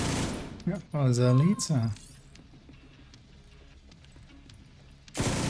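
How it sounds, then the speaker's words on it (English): Mortar fire in a shooting video game lands as a loud, sudden blast near the end, after a burst of warbling game sound effects, while a player talks over the action. "that was a mortar"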